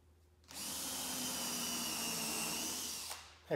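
A power drill with a tapered countersink bit pre-drills screw holes in the wooden centerboard trunk of a Haven 12 1/2 boat, starting abruptly and running as a steady close whine for about three seconds, with no talk.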